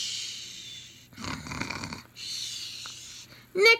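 A storyteller's voice imitates a man snoring in a children's rhyming tale, giving a couple of rough, drawn-out snore sounds up close, with spoken narration around them.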